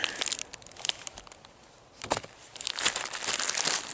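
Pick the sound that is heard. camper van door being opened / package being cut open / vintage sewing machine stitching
package being cut open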